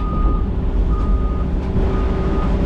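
Steady, loud reversing beeps from a Cat 336 excavator backing off a trailer, repeating in an even rhythm over a low diesel engine rumble.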